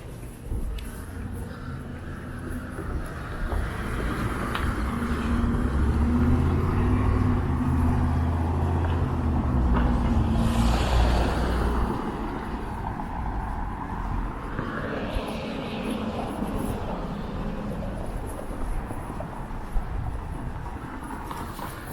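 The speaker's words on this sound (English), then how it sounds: "There's a GO train going over the overpass there." A GO commuter train rumbles across an overpass on a Toronto street, a steady, fairly loud low roar that swells through the middle and slowly fades, heard alongside city traffic and street ambience.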